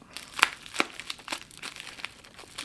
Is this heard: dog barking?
no